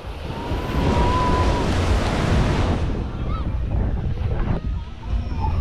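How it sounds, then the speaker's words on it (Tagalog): Big ocean waves surge and crash in continuous loud surf, with wind buffeting the microphone and a boat on the water. "Lalaki na ng alon, no?"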